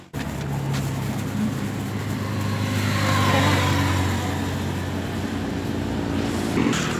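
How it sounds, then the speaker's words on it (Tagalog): Cars driving along a lane of the C6 Laguna Lake Highway, a continuous close roar of passing traffic that swells in the middle, with engine hum throughout and no talking. "Yun yung lane ng mga sasakyan."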